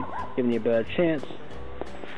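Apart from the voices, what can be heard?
dog barking at a squirrel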